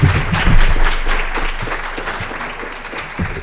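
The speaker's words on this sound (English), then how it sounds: "can we give a round of applause for an awesome-looking panel?" A crowd breaks into loud applause for a library panel discussion, swelling quickly, then slowly tapering off as the clapping thins toward the end.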